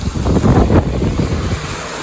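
Water pumped up the road pours into an empty tank, making a loud, continuous rushing wash that stays steady throughout, with some wind buffeting mixed in.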